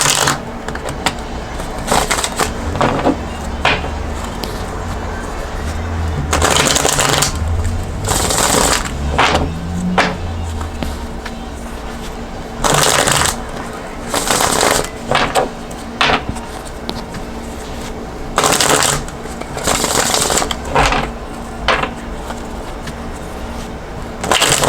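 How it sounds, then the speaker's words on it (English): Repeated bursts of tarot cards being shuffled up close, crisp riffling rustles coming in short runs with brief pauses between them. "I'm just going to continue to keep shuffling for a few more times"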